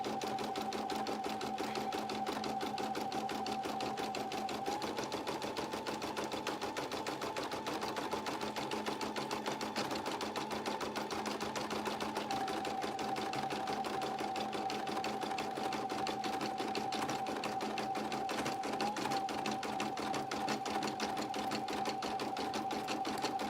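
A single-needle sewing machine stitches an appliqué onto a burp cloth, running continuously at an even fast rhythm with a steady whirring hum and rapid needle clatter, close and clear, with no pauses.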